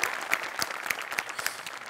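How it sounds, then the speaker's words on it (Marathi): Steady applause from a studio audience honouring a performer after a comedy sketch, dense clapping with sharp individual claps standing out, close and continuous. "आणि निर्मिती ताईंसाठी या स्पेशल वाला टाळ्या"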